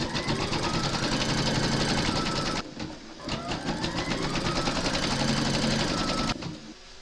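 A home embroidery machine stitches a placement outline in its hoop, its needle chattering in a fast, steady mechanical rhythm up close, pausing briefly midway before resuming.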